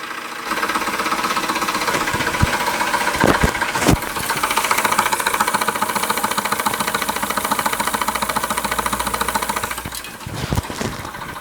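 Stirlingkit Retrol SE-02 model steam engine runs steadily nearby with a fast, even mechanical chuffing beat and occasional clicks and knocks.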